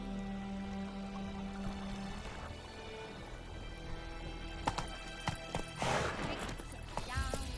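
Roach the horse's hooves clop in The Witcher 3, a string of irregular thuds in the second half after a quieter stretch, with a snort or whinny near the end.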